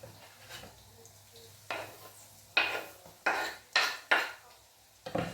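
Curry leaves hitting a pan of lemon pickle, bursts of sharp crackling sizzle in several quick waves amid clinks of a spoon against the pan.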